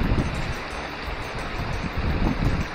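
Small river flowing steadily, a continuous broad wash of water with low rumbling, close and moderately loud, with some wind buffeting the microphone and no talk.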